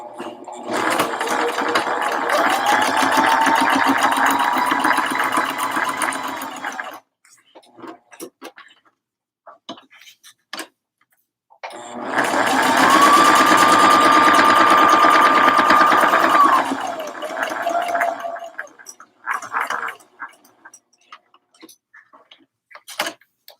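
A sewing machine runs a straight stitch in two long bursts of rapid rhythmic mechanical ticking, close and loud, separated by a pause with a few scattered clicks and ending in short stops.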